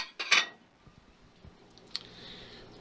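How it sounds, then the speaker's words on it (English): Clean dishes come out of a dishwasher and are put away: a bright clatter of crockery and cutlery near the start, then softer scattered clinks and one sharp tap, close by and with no speech. "putting away my clean dishes from the dishwasher"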